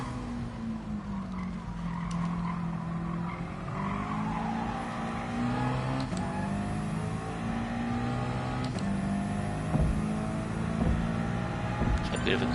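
Race car engine in a PS4 racing video game, a steady loud drone with pitch sweeping up and down through gear changes and brief tire skids, playing continuously under the game's sound mix.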